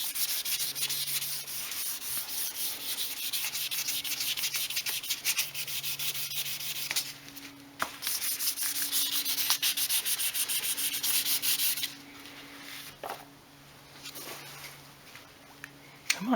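Steady rubbing of a cloth buffing oil finish into a Les Paul guitar neck, a continuous close hiss of friction with slight strokes and pauses, no talking.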